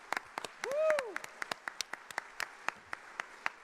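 Sparse, spaced-out claps from an audience at a hackathon opening ceremony tick along at an uneven rhythm, with a brief rising-and-falling whoop or whistle early on.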